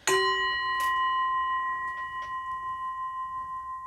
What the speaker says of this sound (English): Donged the bell.